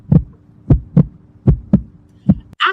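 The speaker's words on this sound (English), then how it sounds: "that's the heartbeat." A heartbeat throbs in regular double thumps, low and prominent, repeating about three times over a steady hum, then cut off by a brief noisy burst at the end.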